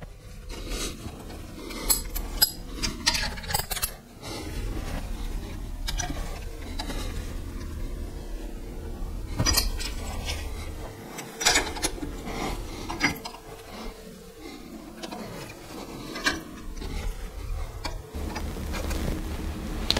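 Metal tools work on the solid lifter valve train of an engine during valve lash adjustment, with close, irregular scraping, clicking and rattling of wrenches and feeler gauges and a few sharper metallic knocks, and no voice.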